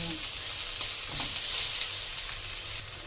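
Ginger, onion and garlic frying in a pan for a Filipino Bicol Express, a steady close sizzle and hiss with light stirring scrapes, no talking.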